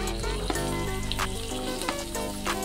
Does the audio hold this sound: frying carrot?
yes